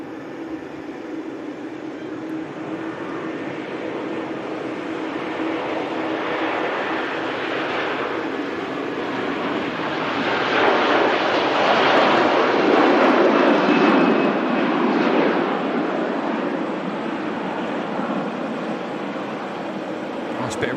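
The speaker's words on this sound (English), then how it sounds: "We have the Virgin Atlantic 330 on the roll just as this Saudi is about to pass us" A Virgin Atlantic A330 airliner takes off at Manchester Airport in thick fog, a broad, steady jet roar that swells to a peak midway and then slowly eases, heard from a distance.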